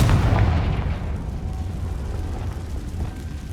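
The Confringo fire spell in the Hogwarts Legacy video game sets off a loud, rumbling explosion whose roar slowly fades into a sustained, crackling low boom.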